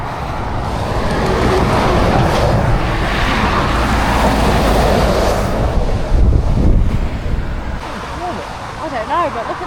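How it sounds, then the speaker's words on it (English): Ocean waves wash against the coast in a steady roar, blended with heavy wind buffeting the microphone, and a brief louder surge comes near the end. "Something just so special about listening to the sounds of the ocean"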